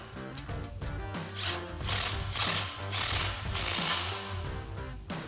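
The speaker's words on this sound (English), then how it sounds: "Now we can tighten these down with our 14mm socket and swivel adapter." A ratchet with a 14mm socket and swivel adapter clicks in steady, close runs while tightening exhaust system nuts on a Toyota Tacoma single exhaust installation, with background music underneath.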